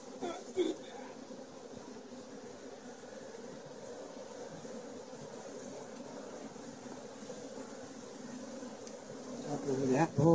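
A low, steady hum of honey bees swarming around hive boxes, a dense droning buzz heard close by with a few handling knocks at the start and a louder bump at the end.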